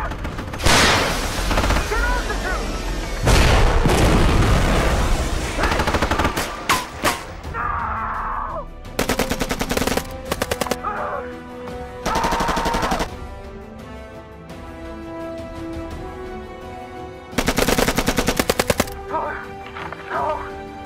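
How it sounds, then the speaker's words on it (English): Gunfire in an action movie: repeated bursts of automatic weapons fire, loud and close, alternating with short pauses between volleys. "Give us some cover fire."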